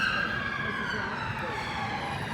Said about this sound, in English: Letting the police cars go by.